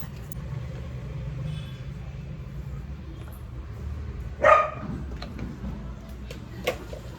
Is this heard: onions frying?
no